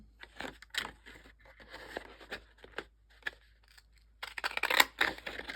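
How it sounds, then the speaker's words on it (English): Scalloped-edge scissors cutting across craft paper, heard as intermittent faint close snips and scrapes with short pauses, ending in a denser burst of cutting. "if you line up your scissor with the end of the paper, you can kind of make sure that it's even all the way across"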